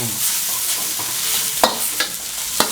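Wide rice noodles stir-fried for pad kee mao, a constant close sizzle broken by a few sharp scrapes and knocks of the spatula in the pan.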